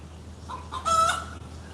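A rooster crows once from a small cage, a short rising cock-a-doodle call at moderate distance over a low steady background hum, with no speech.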